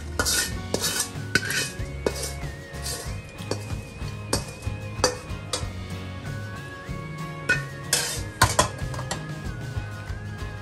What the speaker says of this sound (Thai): ตักใส่จานนะครับ